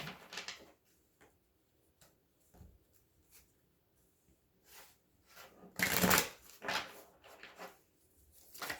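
Tarot cards shuffled by hand in a quiet room, a series of soft papery riffles and taps with short pauses, building to a louder burst of rapid card flutter near the end.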